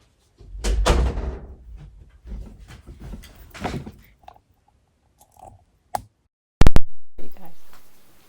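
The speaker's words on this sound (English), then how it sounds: "Hold on, let me close this door real quick." A door is pushed shut indoors, ending in a sharp close and latch click after someone talks briefly, followed by a short fading rattle.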